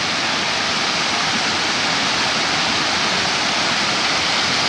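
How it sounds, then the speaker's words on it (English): A loud, continuous roar of falling water from a nearby waterfall near Edale, a broad steady rush that never lets up, with no voices. "the map said there was a waterfall on the way, and there is."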